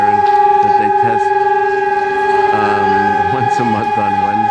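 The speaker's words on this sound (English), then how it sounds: "the noise we're hearing is their, I guess, an air raid or some sort of siren that they test" A loud, sustained wailing air raid siren during a monthly test in Prague holds steady tones throughout, with some voices briefly audible beneath it.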